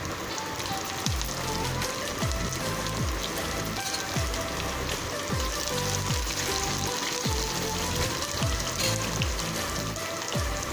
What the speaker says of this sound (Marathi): आता त्यात ही चिरलेली हिरवी मिरची घालूया।